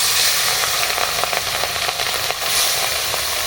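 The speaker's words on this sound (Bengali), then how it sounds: "মাছগুলো ভালো করে মেখে নিয়েছি কড়ার মধ্যে দিয়ে দিচ্ছি" Small spice-coated fish frying in a kadai, a loud continuous crackling hiss of hot oil with scattered pops, close and steady with no talk.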